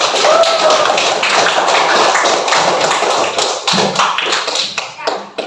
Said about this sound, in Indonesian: Tepuk tangan lagi buat kalian semua